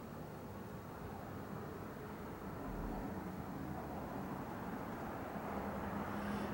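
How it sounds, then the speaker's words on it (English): A small airplane flies overhead near a small airport, a faint, steady distant drone sustained for several seconds with a gradual slight swell, blended with broadband outdoor background noise. "even if the airplanes go by overhead"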